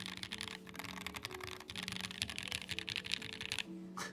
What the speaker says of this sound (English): We are doing a typing test.